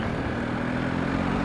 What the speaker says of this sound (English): bit of acceleration there.